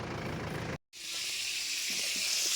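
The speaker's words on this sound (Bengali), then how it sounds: "দেখো মাছ ভাজা হচ্ছে" Fish frying in a pan for a midday meal at an outdoor forest camp, a steady broadband hiss that cuts out briefly near the start, then resumes with faint clatter.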